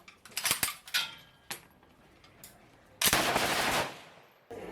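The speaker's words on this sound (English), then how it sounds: "We tried an AK-47 and also a machine gun." Gunshots from an AK-47 and a machine gun at a shooting range crack out in several sharp reports, including a short burst, with quiet gaps between them.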